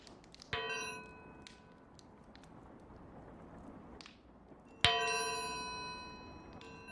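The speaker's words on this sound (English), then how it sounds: "Can't make my bells make the nice little clanging sound." A small bell is struck twice, each strike a sharp bright clang with a shimmering ring that fades slowly over a few seconds, set against a quiet background.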